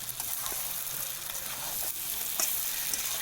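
Mutton and potatoes stir-frying in a pan for a curry, a steady close sizzle broken by a few scraping stirs, with no talking.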